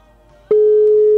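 A telephone line tone sounds while calling someone: after a brief quiet hiss, a loud, steady single-pitched tone begins abruptly and holds to the end.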